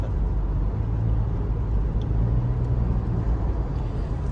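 Steady car engine drone with low road rumble while driving on a highway in Thailand, a constant near hum without clear revving or surges.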